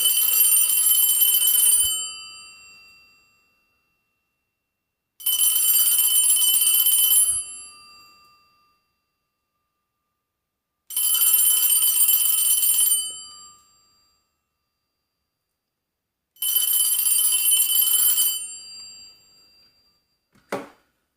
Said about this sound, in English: this is the Radio Shack 43175 mechanical bell ringer